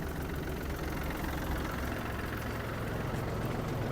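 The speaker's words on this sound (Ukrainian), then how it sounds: "Кардан крутиться, ножі працюють." A Yanmar AF-26 mini tractor drives a rotary tiller through its PTO shaft, producing a steady, low engine drone with a continuous even rumble and no talking.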